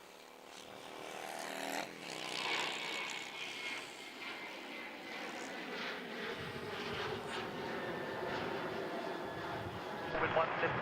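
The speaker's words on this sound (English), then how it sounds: "Another early takeoff from a full length" An airliner taking off from a full-length runway departure at Melbourne Airport, its engine roar building and swelling over several seconds at a distance, with a voice speaking over it.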